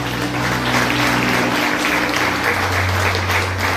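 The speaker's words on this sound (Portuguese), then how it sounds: "Você pode aplaudir o Senhor." Church congregation applauding during a worship service, a steady continuous wash of clapping with low sustained tones, likely organ or keyboard, underneath.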